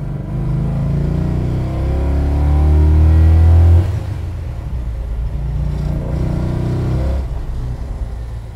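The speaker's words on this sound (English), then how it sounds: "Those six-pack carbs opening up and devouring all that air" A Mopar muscle car engine with six-pack carburetors revs hard, a loud close rising roar that climbs and holds, then drops back to a deep, rumbling idle before blipping again.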